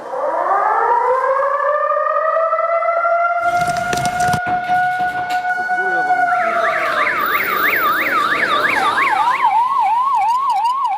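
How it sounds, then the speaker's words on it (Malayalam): A civil defence siren wails at a disaster management office to open a mock drill, rising in pitch and holding a loud, steady tone before warbling up and down, with a brief burst of clatter midway. "ദുരന്ത നിവാരണ അതോറിറ്റി ഓഫീസിലെ ആ സൈറൺ മുഴങ്ങിയതോടുകൂടി മോക്ക് ഡ്രിൽ ആരംഭിച്ചു."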